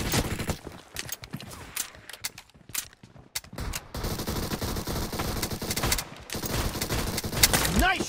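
PUBG Mobile gunfire crackles in rapid bursts and single shots, near and loud, with brief lulls between volleys and a voice speaking briefly.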